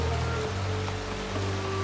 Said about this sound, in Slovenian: Saj vedno bolj dežuje, Apple Bloom.